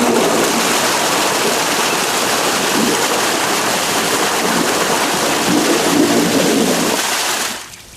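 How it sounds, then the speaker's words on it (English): An Aqua Blaster pond aerator churning water, a loud, steady rushing and splashing roar like a stream that holds constant for most of the clip, then drops away sharply near the end. "you could move it up like this and use it as an aerator"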